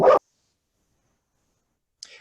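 A dog gives one loud, short bark close by during a virtual meeting, followed by a long silence and a faint brief yelp at the end.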